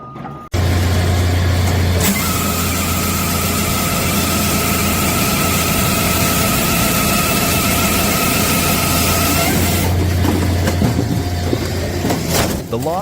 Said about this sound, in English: The log splitter operates with a smooth and powerful rhythm